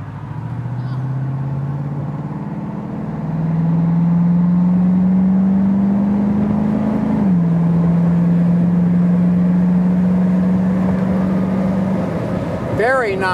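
A 1970 Ford Mustang 351 Shaker convertible cruising at highway speed, with a steady engine drone that rises slightly as it accelerates and then holds, wind and road noise throughout, and a brief shift partway through.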